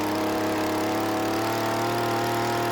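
A petrol hedge trimmer's small two-stroke engine runs steadily at high revs with the choke open while its mixture screw is adjusted, loud and close, with a constant buzzing drone and no talking.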